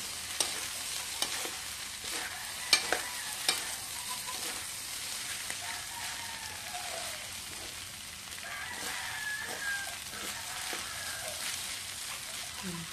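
Fried rice sizzles in a pan while being stir-fried, with steady frying hiss and repeated sharp scraping clinks of a utensil against the pan, fairly soft and close, with occasional faint voices and a rooster in the background.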